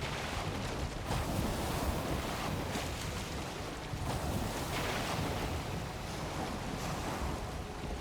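A sailing ship in Valheim pushes through the sea, with continuous washing waves and wind noise rising and falling gently, steady and fairly loud, with no talk.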